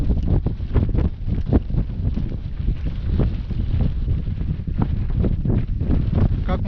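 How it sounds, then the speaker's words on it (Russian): Strong wind blows across a lake during a fishing trip, a constant, loud roar that buffets the microphone throughout, with no voices. "Ветрище вообще страшное."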